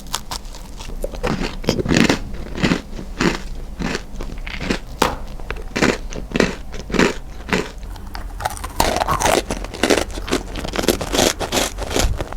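Crisp crunching bites into a frozen vegetable-cracker-flavored bakery pastry, followed by repeated loud, close chewing crunches in a steady rhythm, with no talking.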